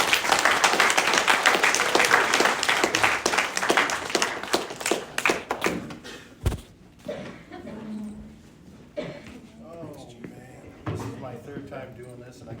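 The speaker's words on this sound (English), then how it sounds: "Please give me a warm applause for Floyd." Audience at an AA open talk breaks into dense clapping that thins into scattered claps and fades, followed by someone speaking at the microphone.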